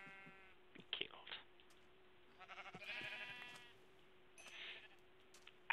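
Several short Minecraft sheep bleats, quiet and spaced apart, over a faint steady hum with a few soft clicks between them.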